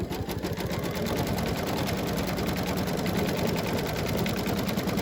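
A home embroidery machine stitching the placement outline for an eyeglass case, producing a continuous rapid mechanical needle chatter and motor hum at close range, steady and loud throughout with no talking.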